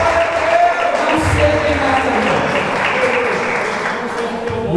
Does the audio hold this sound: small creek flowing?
no